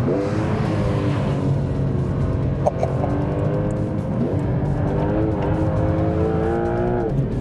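A Porsche 911 Turbo S with its PDK dual-clutch gearbox drives hard, its engine a loud, continuous drone whose pitch climbs and shifts through gear changes with no talking.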